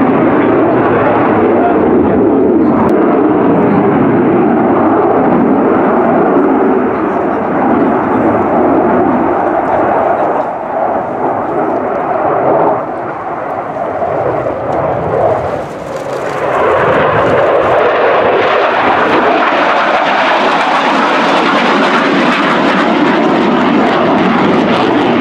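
Polish Air Force MiG-29 jet engines roar loudly and continuously through an air display at RIAT, a broad sustained blast that dips briefly midway and then surges with a harsher, brighter edge.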